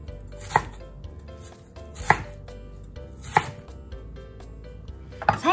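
A knife chops peeled Chinese yam (nagaimo) into fairly large cubes on a cutting board, with three or four distinct sharp thuds spaced about a second apart and quiet handling noise between them.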